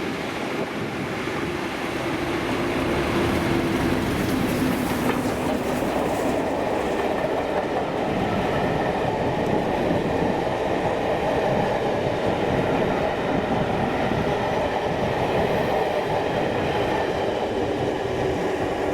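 Class 37 diesel locomotive 37518 hauling LMS Stanier class steam locomotive 45212 through Coatbridge Central, a steady loud rumble of engine and rolling wheels sustained throughout with no talk.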